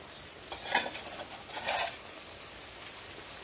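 Korat-style stir-fried rice noodles with garlic chives being tossed and mixed in a pan as the oil dries, a few soft scraping stirs with faint sizzling, quiet and close.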